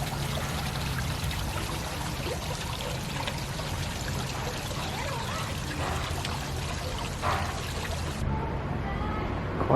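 A small waterfall at a church grotto in Baguio City, Philippines, pours and splashes continuously in a steady rushing stream close by, a constant bright wash of noise with no pause.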